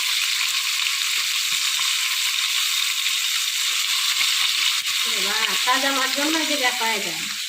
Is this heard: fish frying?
yes